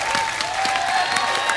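A studio audience at a comedy talk show breaks into brief, continuous applause, with many hands clapping at once in a bright, even burst.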